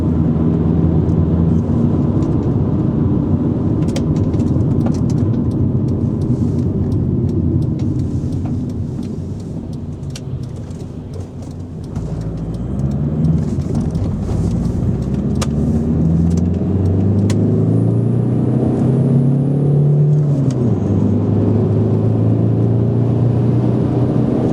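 A 1998 VW Sharan Mk1 with a 1.9 TDI diesel engine accelerates hard from inside the cabin, a loud, continuous engine drone rising in pitch through the gears, with a brief dip partway before climbing again.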